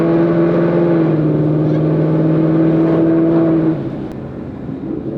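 A car engine fitted with ARH headers runs with a deep, loud, steady droning note and a choppy, cam-like idle, holding for several seconds before the revs drop and it settles lower.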